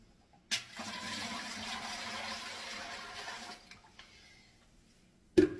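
About three liters of water pours into a pressure canner in a soft, steady rush for roughly three seconds before tapering off, followed by a sharp clunk.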